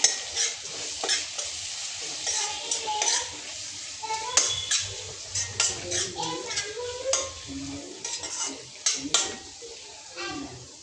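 A spoon scrapes and clinks repeatedly around a pan as turmeric, chilli and coriander-cumin powders are stirred for Mexican rice, over a low sizzle, with brief faint talk in the background.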